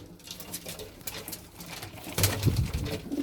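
Tumbler pigeons coo in a low, throaty murmur, several soft calls overlapping with a louder burst of cooing near the end, no talking.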